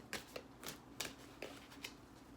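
Oversized tarot cards riffled and shuffled by hand in a quiet room during a reading, giving soft, faint repeated flicks about every half second, with no voice.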